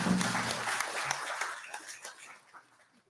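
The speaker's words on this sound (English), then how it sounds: "Let's give her a big round of applause" A crowd at a graduation ceremony claps in applause, loud at first and then thinning out and fading away over a few seconds.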